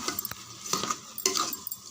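Rice being stirred into masala in a pan for paasiparuppu kichadi, giving soft scraping swishes with a few louder utensil strokes near the start, middle and end, close up and without talk.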